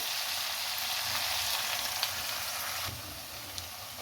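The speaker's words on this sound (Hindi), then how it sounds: "इसके अंदर ऐसा 2 अंडे एक एक करके इसके अंदर डाल दें और इसका फ्लेम ज़रा थोड़ा सा लो कर दें।" Two eggs fry in masala in a pan on a lowered flame, giving a steady, close sizzle with a few faint clicks and a slight drop in level partway through.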